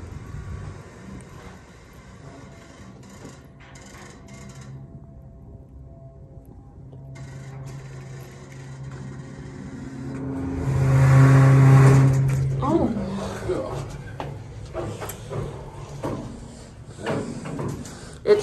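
A Dover hydraulic elevator running low on oil hums and rumbles as it moves, then lets out a loud, sustained groaning drone followed by clunks and rattles, with people talking quietly.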